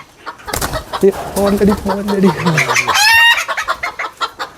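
Tiny three-year-old laying hens, the smallest breed of chicken, clucking up close in a burst of rising, squawking calls, with people talking nearby.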